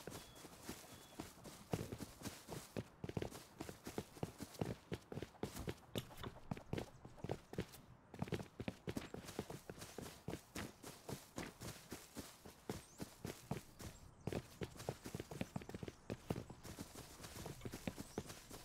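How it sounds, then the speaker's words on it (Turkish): Steady, rhythmic footsteps in the survival video game Rust, a continuous run of close, crisp impacts lasting the whole stretch with no talk over them. "Ayak sesi duydum sandım da sen misin?"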